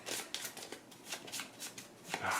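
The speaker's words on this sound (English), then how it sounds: "Which means we'll shuffle these up." A deck of cards is riffled and shuffled during a Gloomhaven: Jaws of the Lion board game session, giving a steady run of close, crisp papery riffles and flutters with no talking.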